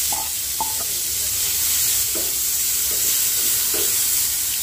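Onion sizzles steadily in butter in a pan over high flame, with a constant frying hiss and a few soft stirring knocks.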